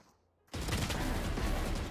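Video game gunfire erupts after a short quiet moment, a loud continuous spray of rapid automatic shots filling the rest of the clip.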